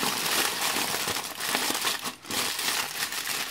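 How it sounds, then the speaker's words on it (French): Aluminium foil being folded over baking paper to close a salmon papillote, with continuous close crinkling and crumpling and a brief pause midway. "je vais plier par-dessus le papier d'aluminium"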